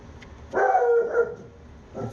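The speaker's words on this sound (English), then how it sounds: "It's a dog." A pet dog named Bailey gives a short burst of barks close by in a garage, loud and clustered over about half a second, then a brief quieter yelp follows.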